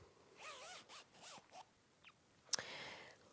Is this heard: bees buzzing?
no